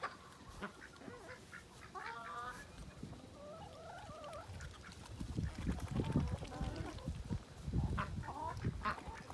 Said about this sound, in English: Ducks sure are enjoying the rain.